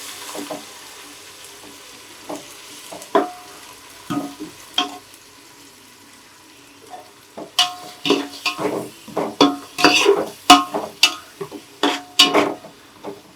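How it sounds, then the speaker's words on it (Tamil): Ginger and garlic sizzle quietly in oil over a low flame while a spoon stirs them, with soft frying hiss and a growing run of sharp scraping and clinking strokes against the pan toward the end. "சிம்மில் போட்டு அப்படியே நல்லா கிண்ட ஆரம்பிக்க வேண்டியதான்"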